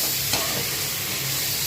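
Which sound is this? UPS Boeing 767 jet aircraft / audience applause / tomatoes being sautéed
tomatoes being sautéed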